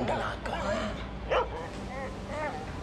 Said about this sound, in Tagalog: kapag daw ang aso ay umaalulong